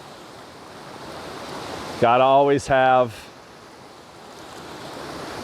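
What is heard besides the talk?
waterfall and creek flowing water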